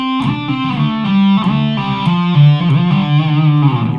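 An electric guitar with distortion plays a slow solo phrase from a song, with whammy-bar pitch bends and hammer-ons, loud and sustained without pause.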